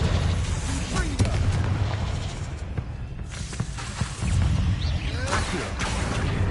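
In the Hogwarts Legacy video game, the Confringo fire spell lets off a booming fiery blast. Rumbling explosive bursts and crackling pops sound over continuous battle noise.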